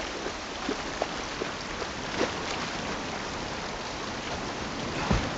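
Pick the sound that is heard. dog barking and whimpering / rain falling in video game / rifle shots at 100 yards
rain falling in video game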